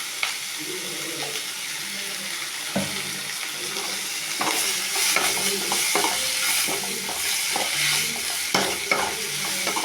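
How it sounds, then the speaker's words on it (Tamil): Tomatoes and onions sauté in oil for a ridge gourd chutney, a steady sizzle broken by repeated spoon scrapes and stirring knocks, close and continuous with no talking. "தக்காளியும் வெங்காயத்தையும் நல்லா வதக்கி எண்ணெய் விட்டுக்கோங்க"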